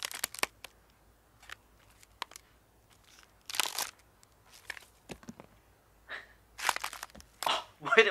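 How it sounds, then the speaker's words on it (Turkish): Foley bone-breaking effect made with old cassette tape: a series of sharp crunching, cracking bursts in irregular clusters, close and fairly loud, with short pauses between snaps. "Evet, bu kemik kırılma sesi işte."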